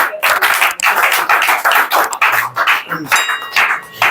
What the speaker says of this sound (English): So clap with me, everyone, and welcome Mr. NH and Mossy.